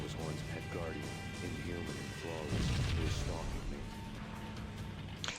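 Grenade launcher fired at the floor in the Max Payne video game, a loud booming blast midway through, set against constant game noise and voice.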